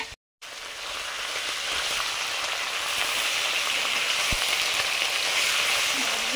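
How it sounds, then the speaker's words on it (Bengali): Fish sizzling in hot oil in an iron wok, a steady loud crackling fry that starts after a brief silent gap and continues with no one talking. "লোহার কড়াইতে মাছ ভাজতে দারুণ লাগে, সুন্দর লাগে।"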